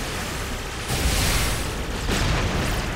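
Explosions in the game Touhou Gouyoku Ibun burst out as two loud booming swells with a rushing noisy tail, each rolling on for a moment before easing off.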